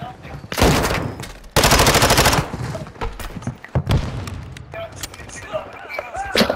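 Video game gunfire in bursts: loud rapid automatic fire and sharp single shots crack in clusters, with thuds and impacts between them, mixed over game voices and player talk.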